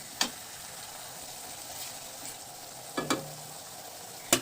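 Tomatoes frying in a pan for Bengali katla kalia give a soft continuous sizzle, broken by a few sharp scrapes and clinks of a spatula stirring against the pan.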